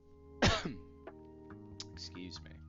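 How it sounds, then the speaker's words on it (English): A single harsh cough bursts out near the mic, followed by a few smaller throat sounds over a steady low hum, with no talking. "Still coughing. New cough this time."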